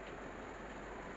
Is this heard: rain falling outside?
yes